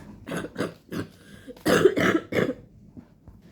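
A series of harsh coughs, several in quick bursts with short pauses between, close and clear with no talking.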